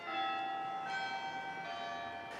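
Carillon church bells ring at Grace Cathedral, several bright bell strikes with long ringing overtones following one another in sequence, distant and fairly quiet, with no talking.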